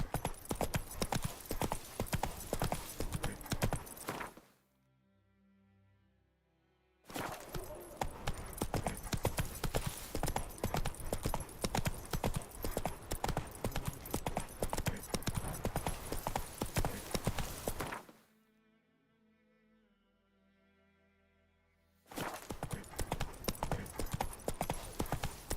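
Roach, a horse in the video game The Witcher 3, clip-clopping with a loud, rapid, steady hoofbeat in long runs broken by two short near-silent pauses.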